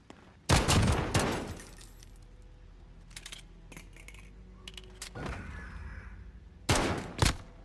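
Dual pistols firing in a one-on-one gunfight video game: sharp close bursts of shots at the start, scattered quieter reports in the middle, and another loud pair of bursts at the end.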